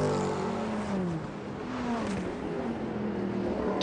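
A Mercedes-Benz CLR race car with a naturally aspirated V8, its engine roaring loud and close in a sustained drone whose pitch dips and climbs again as it runs at speed.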